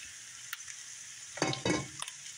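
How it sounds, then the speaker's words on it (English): Caramelizing onions get stirred in a hot pan: a soft constant sizzle broken by a few short, close scraping and stirring bursts, with the loudest pushes coming in quick succession near the end. "we're going to be mixing up those caramelizing onions a little bit"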